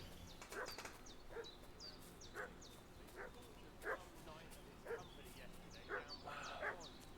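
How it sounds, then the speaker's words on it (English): A dog in Kingdom Come: Deliverance 2 barks and yips in a steady series of sharp calls, roughly one per second, with whimpering mixed in and a voice talking underneath. "What's that dog making such a fuss about?"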